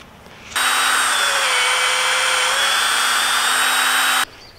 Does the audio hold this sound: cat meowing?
no